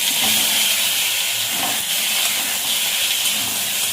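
Potatoes sizzle loudly in hot mustard oil in a wok, a steady close hiss that carries through the whole stretch with no talk over it.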